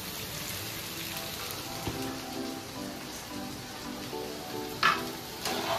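Flattened rice (chire) goes into a pan of fried potatoes and sizzles steadily at close range, with a few light clinks and stirring sounds.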